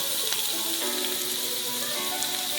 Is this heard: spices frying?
yes